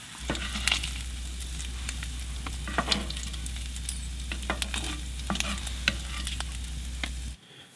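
Sausage, bacon and eggs sizzling steadily in a pan inside a heated tent during winter camping in snow at 15°F, with a close continuous fry crackle, scattered utensil scrapes and pops, and a low steady hum beneath.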